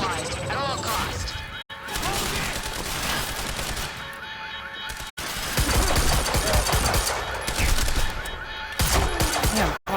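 Repeated gunshots in the action game Quantum Break crack out in sharp clusters over a busy background of game sound, with a voice talking over parts of the exchange.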